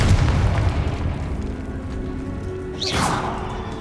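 Hogwarts Legacy blasting curse explosion in game combat, a dense rumbling boom sustained under a thick background, with a sharp bright burst near the end of the clip.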